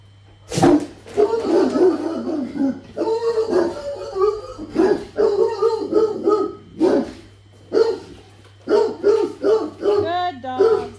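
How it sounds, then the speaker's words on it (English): Several dogs bark, yip and howl in repeated loud bursts close by, with whimpers between them and people talking over the noise. "what kind of dogs are these"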